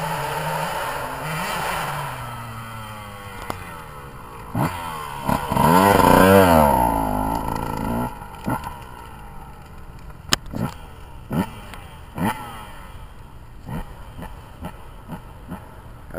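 A Husqvarna TC125 dirt bike rides around a homemade dirt track, its two-stroke engine revving up and down in rising and falling bursts, loudest in the middle, then fading into distant short blips and pops.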